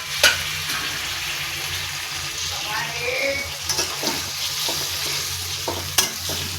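Chopped tomatoes frying in a pan while being stirred, a continuous close sizzle broken by scraping spoon strokes and a couple of sharp clinks against the metal.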